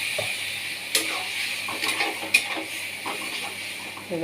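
Water hits a hot pan of pasta being cooked and sets off a steady, bright sizzle. Sharp scrapes and clinks of stirring cut through it, and a voice murmurs briefly underneath.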